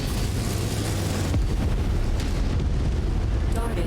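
A heavy, rumbling explosion from a destroyed target in MechWarrior 5 booms with a sharp onset partway through, over a dense, continuous roar of battle noise and low engine rumble.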